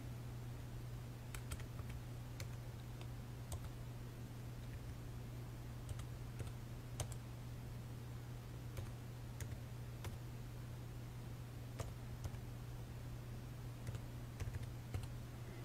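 A card number is typed on a computer keyboard while an online seller account is being set up. Quick, light key clicks come in an uneven run from close by, faint over a steady low electrical hum.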